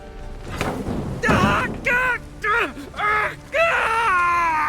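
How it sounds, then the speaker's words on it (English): Anguished screams and wails in the video game The Witcher 3 come in four or five loud, separate bursts, each a rising and falling cry, with a dull thud near the start. "My ears wither from the screams."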